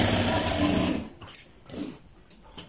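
A sewing machine runs fast and steady while stitching a designer kurta, a loud mechanical whir for about a second, then it stops and a few soft fabric handling sounds follow.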